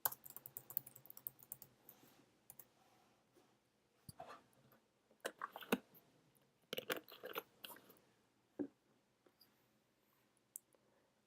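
Quiet keystrokes on a computer keyboard while entering SQL come in short, irregular bursts of clicks separated by pauses, close to the microphone, with no talking.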